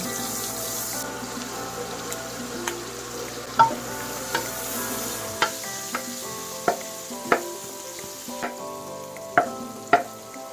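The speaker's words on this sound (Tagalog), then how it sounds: "pwede na natin ilagay yung ating sibuyas. Unahin natin siya dahil mainit na yung ating butter." Onions sauté in hot butter for pork patatim, a soft continuous sizzle under a string of sharp utensil clicks and taps against the pan, spaced every second or so, with no talk.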